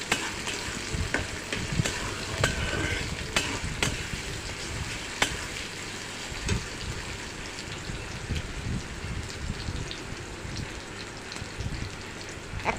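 Chopped onions and green chilies frying in oil in a pan, a steady close sizzle throughout with occasional clicks and scrapes of stirring.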